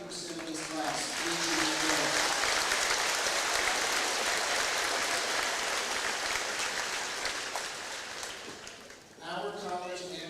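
A graduation audience breaks into broad applause, a loud, continuous patter of many hands that fades near the end as a voice speaks over the sound system.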